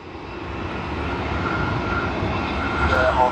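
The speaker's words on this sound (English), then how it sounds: "That's nice to see Emirates livery coming in after a very long time." An Emirates airliner comes in to land at Sydney Airport, its jet engines a steady, moderately distant drone that swells slightly toward the end.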